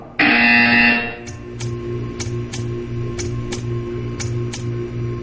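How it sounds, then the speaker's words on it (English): A loud electronic buzzer in the video game Portal 2 blares for about a second, followed by a steady run of sharp ticking clicks over a low hum. "You will hear a buzzer."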